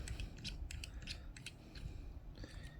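Small screws are worked loose from the body of a crossbar lock during disassembly, giving faint clicking, ratcheting mechanical ticks in short bursts over a low background rumble.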